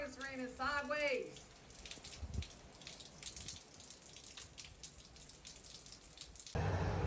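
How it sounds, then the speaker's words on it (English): Hurricane Ian rain sweeps sideways in Tampa as a steady hiss of wind-driven drops, with a voice briefly audible at the start and a sharper gust-like rush at the very end. "it's raining sideways"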